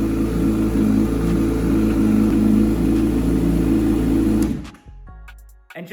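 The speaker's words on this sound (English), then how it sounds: "Now I need to actually start the bike. There we go, it worked." A 2019 Honda CBR1000RR sport bike engine runs loud and close with a steady drone and mechanical whine, then cuts off abruptly near the end, leaving faint clicks.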